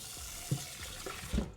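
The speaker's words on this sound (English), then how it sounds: "I'll rinse out this bowl." Tap water runs into a bowl as it is rinsed in a kitchen sink, a brief close splashing flow with a couple of soft sloshes, heard alone.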